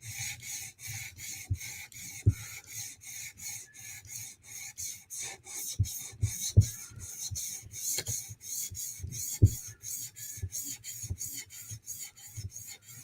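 A blade is sharpened on a 400 grit polishing stone in steady, rhythmic rasping strokes, close and fairly loud, repeating back and forth with a few sharper scrapes and no voices.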